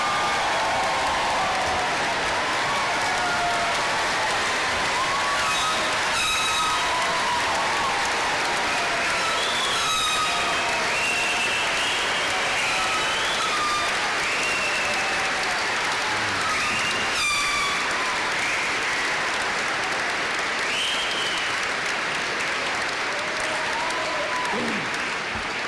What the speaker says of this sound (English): everybody get up and give them a big round of applause